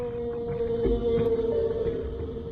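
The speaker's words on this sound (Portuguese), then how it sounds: "as baleias desenvolveram um poderoso chamado de baixa frequência." Whale song, a long low-frequency call carried through the ocean, heard as a sustained tonal moan with shifting pitch and a steady underwater background.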